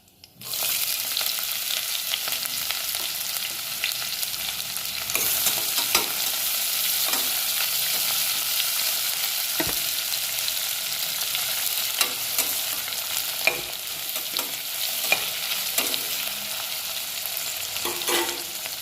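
Chopped onion and whole spices sauté steadily in a hot pan for mutton gravy, a dense continuous sizzle with occasional stirring clicks and scrapes running throughout, close and loud, with no talking.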